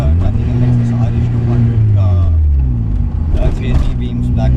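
A 1979 Mazda 323 (Familia/GLC) shell fitted with a Lexus engine and a six-speed J160 manual gearbox runs with a loud, steady low rumble at close range, while someone talks over it throughout.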